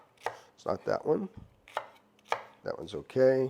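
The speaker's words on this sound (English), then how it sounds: "When you're cutting a really fibrous okra," A knife cuts through tough, fibrous okra during gumbo preparation, giving a few sharp, crisp chops scattered between a person's close conversational speech.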